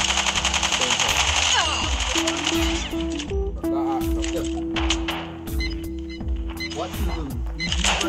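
Repeated gunfire bursts from a gunfight in the mobile shooter COD Mobile, loud and near, with rapid staccato shots and game effects while players talk over it.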